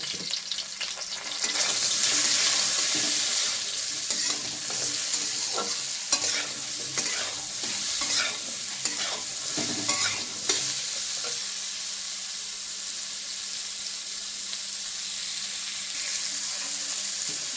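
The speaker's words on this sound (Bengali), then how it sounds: "এবার নেড়ে চেড়ে এটা ঢেকে দেবো।" Food sizzles steadily in a pan while a utensil scrapes and stirs it in repeated strokes, loud at first and settling into a quieter, even frying hiss.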